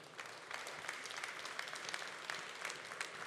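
At an industry trade-show awards ceremony, the Global Industries innovation awards, an audience gives steady, fairly faint applause for the winners, a continuous patter of many hands with no speech over it.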